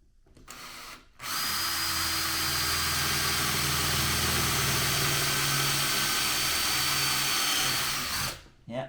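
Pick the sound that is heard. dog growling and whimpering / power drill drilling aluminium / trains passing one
power drill drilling aluminium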